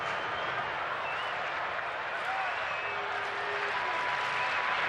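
Crowd at a Chicago White Sox home game against the Anaheim Angels cheering and applauding in a steady, dense roar across the whole stretch, broad and diffuse with no single voice standing out.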